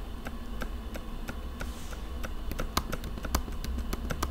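Keys being pressed on a faulty 2017 MacBook Pro 15-inch keyboard: a run of sharp, irregular clicks and taps, some louder than others, close up over a low steady background hum.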